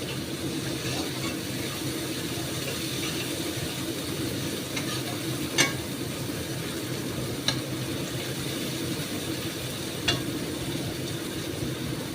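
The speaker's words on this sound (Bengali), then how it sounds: "কষে নিচ্ছি কষাটা খুব ইম্পর্টেন্ট" Masala of cumin, coriander, chilli and turmeric sautéing over medium heat in a pan, a steady low sizzle with occasional stirring clicks, no voices.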